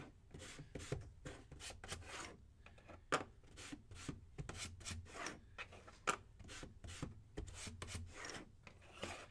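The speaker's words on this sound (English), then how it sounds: "Just lightly going to sand over this white so it's not so bright." Light hand sanding of white painted wood, a quick rhythmic rasping of repeated short strokes, close and quiet with no talking.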